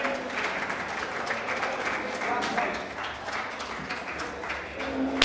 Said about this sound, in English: Let us all give a big applause to Mr. Balakrishnan for his wonderful service